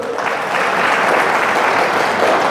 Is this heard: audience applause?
yes